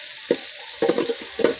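Garlic frying in a pan while making goat head curry, with a few short stirring scrapes and light sizzling near the pan, no talk.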